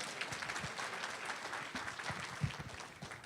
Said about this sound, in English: Well, come on, clap for Bill.